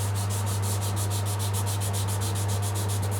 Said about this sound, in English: Of course I'm sanding paint now, so these scratches will probably look worse